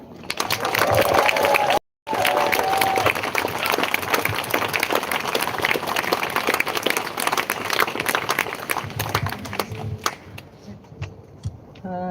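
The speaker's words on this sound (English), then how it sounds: "Please give a massive round of applause for Martina Irwin." Loud, sustained audience applause with some cheering fills a hunting-related outdoor rally, a brief gap near the start, then dense clapping that thins slightly toward the end.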